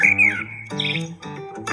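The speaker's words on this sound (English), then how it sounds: "Ah, it's a bird." A bird squawks in a few loud, harsh, close calls, rising and falling in short bursts with no talking.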